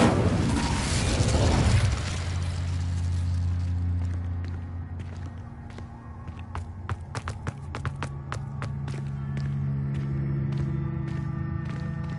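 An Incendio fire spell cast in Hogwarts Legacy opens with a loud, roaring whoosh-burst of flame. A lower rumble and a scatter of crackling pops follow and fade over several seconds.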